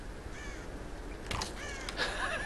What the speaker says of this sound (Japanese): あ、カラスいる。